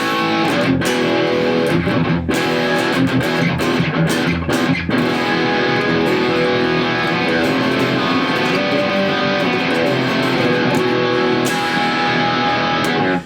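A 2020 Yngwie Malmsteen Signature Stratocaster through natural amp distortion plays continuously, loud and dense, with crunchy overdriven tone and strummed and picked notes throughout.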